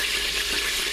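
Beef broth pours steadily into an Instant Pot, a continuous close splashing wash of liquid lasting about a second with no talk.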